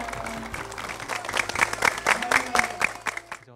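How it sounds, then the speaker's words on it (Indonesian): A group of children in a village class claps together, a lively ragged burst of many hands that swells, peaks, then tapers off quickly, heard close with faint voices mixed in. "Oke, tepuk tangan semuanya."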